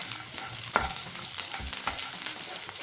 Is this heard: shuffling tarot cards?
no